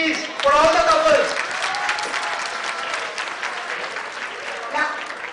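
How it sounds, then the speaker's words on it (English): Loud audience applause for couples at a silver wedding anniversary party games evening, a dense burst of clapping that swells early, then settles into steady clapping with a brief louder flurry near the end. "Can we have a louder applause, please, for all the couples?"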